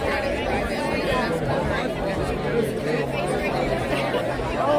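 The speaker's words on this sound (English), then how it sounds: "we're getting a good crowd gathering around" A crowd gathers at an outdoor Vietnam memorial dedication in Campbell County, Kentucky, a steady dense babble of many voices chatting at once, close and continuous with no single speaker standing out.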